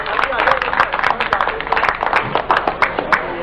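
Audience applause at a farewell ceremony, a dense run of claps with crowd noise mixed under speech-like sound, steady and fairly loud throughout.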